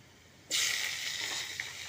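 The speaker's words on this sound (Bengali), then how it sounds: "আমি এখন আলুগুলোকে ভেজে নিচ্ছি" A sudden loud hiss of potatoes dropped into hot oil, settling into a steady sizzle after a quiet start.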